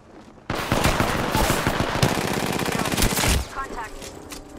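Sustained automatic gunfire in the battle royale game Apex Legends, a loud rapid burst of shots lasting about three seconds after a sudden start, then cutting off into quieter game sounds.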